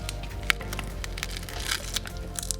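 Broken glass crunches on a damaged LG TV panel that was crushed by a parade float: steady gritty crackling close by, with a few sharp snaps and grinding scrapes and no speech.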